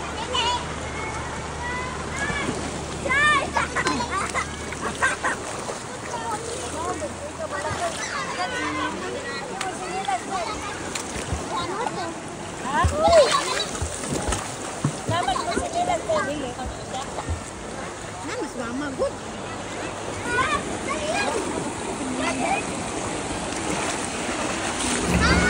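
Cold mountain water flowing under the Makapiko Bridge, a steady broadband rush with wind buffeting the microphone, while a person talks over it throughout.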